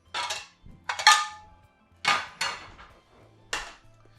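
A frying pan is pulled out in a home kitchen, metal pots and pans clanking and clattering in four or five separate bursts with quiet gaps between, close and fairly crisp.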